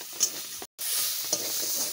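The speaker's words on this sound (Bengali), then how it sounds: "ওদিকে বেলতেছি আর এদিকে আবার ভাজাও করতেছি।" Food frying in a pan, made while dough is rolled alongside, sizzles steadily up close, with a couple of light stirring taps and a brief dropout partway through, no voices.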